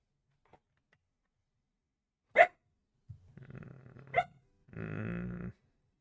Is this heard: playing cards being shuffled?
no